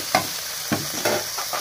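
Butter and pav bhaji masala sizzling on a hot tawa while being stirred, a steady close frying hiss broken by a few sharp scraping strokes of the spatula.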